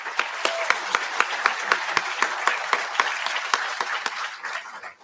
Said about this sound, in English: So one last round of applause.